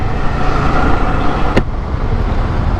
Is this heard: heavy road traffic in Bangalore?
yes